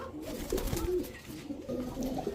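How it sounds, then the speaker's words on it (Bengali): Roadmaster pigeons coo in low, rolling, throaty calls that repeat steadily and fairly close, with no other sound around them. "এগুলো হচ্ছে রোড মাস্টার কবুতর"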